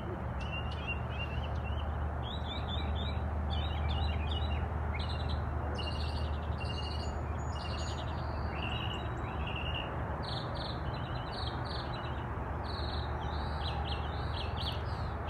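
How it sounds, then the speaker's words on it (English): Several birds chirp and trill in short bursts in a quiet morning setting, their calls scattered and moderately close over a soft, constant background hum, with insects faintly present and no talking. "Keep a moment to listen to the bird and see all these beautiful things."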